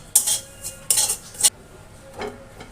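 A spoon scrapes and stirs a fried puffed-rice (khoi) mixture in a metal pan after the flame is turned off: two brief clusters of sharp clinking scrapes, then a fainter single scrape, close and otherwise quiet.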